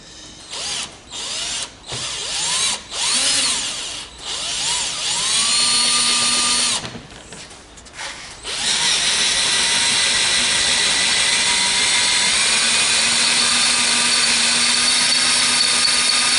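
Power drill boring into a trailer tailgate, first in short stuttering bursts, then a long sustained high whine as the bit bites through, loud and close.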